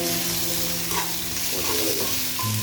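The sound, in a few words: ginger garlic paste frying in pan for duck roast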